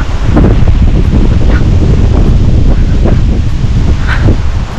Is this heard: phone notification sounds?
no